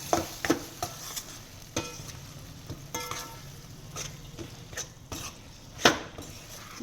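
Radish curry in gravy being stirred in a pan: repeated scrapes and metallic clinks of a spoon against the pan, spaced irregularly over a soft background sizzle.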